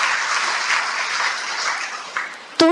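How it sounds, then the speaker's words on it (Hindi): Audience clapping at a stress-relief meditation camp, a steady wash of applause throughout with a brief louder swell near the end. "तालियां बजाएं सबके लिए।"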